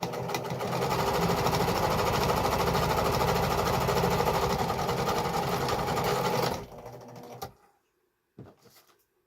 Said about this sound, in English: I'm going to put the corners together. And I am going to stitch.